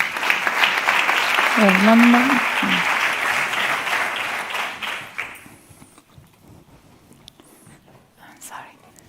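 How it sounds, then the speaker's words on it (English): An audience applauds a presenter at a pediatric innovation contest pitch event: dense, steady clapping fills the first five seconds with a brief voice rising over it, then dies away into near silence. "So please give a big applause to Teresa Rossignoli and her project STap2Go."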